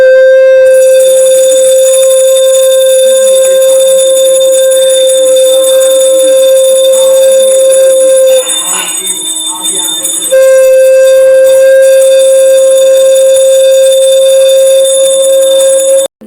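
Bells ring at midnight during a home Janmashtami celebration, a loud, sustained metallic ringing with steady overtones that dips briefly midway and then resumes.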